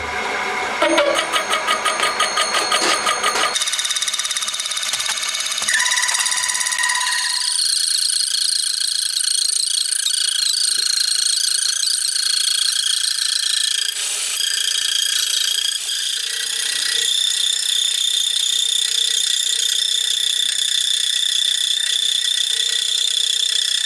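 A milling machine running at slow speed cuts slits into a metal top bridge for a Honda RC146 replica motorcycle, giving a continuous high metallic whine with shifting tonal squeals and no talking.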